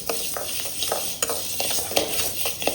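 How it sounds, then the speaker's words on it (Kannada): Horse gram dry-fries in a pan for a Mangalore-style dish, its hard seeds rattling and scraping under a spoon in quick, repeated strokes over a continuous close hiss. "ಇನ್ನು ಸ್ವಲ್ಪ ಫ್ರೈ ಆಗಬೇಕು ಕಟಕ್ ಅಂತ"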